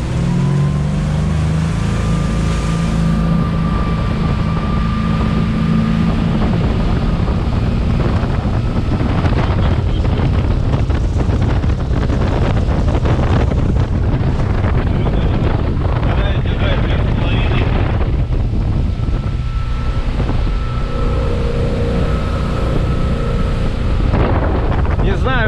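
A Four Winns 258 motorboat with a single 300 hp engine planes across waves at speed, its loud, steady engine roar and hull slap mixed with heavy wind buffeting the microphone throughout, while people speak briefly over it.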